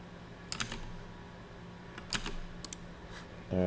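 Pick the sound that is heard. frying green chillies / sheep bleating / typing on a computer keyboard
typing on a computer keyboard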